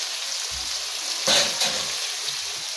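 Chicken pieces fry in hot oil in a covered pan, giving a steady close hiss with a louder burst of crackling sizzle midway before settling back to a constant bubbling fry.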